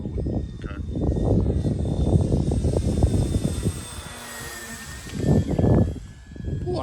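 A small Carbon Cub light airplane flies on a windy day, its engine drone shifting in pitch as it passes and wind buffeting the mic, with people talking over much of it.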